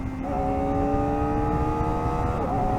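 A new Kawasaki Ninja ZX-4RR motorcycle with only a few miles on it downshifts, its engine note sweeping and stepping in pitch in a close, continuous whine.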